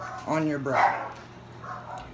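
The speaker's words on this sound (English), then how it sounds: "Excuse my dogs barking." A dog barks a couple of times close by while a person keeps talking over it.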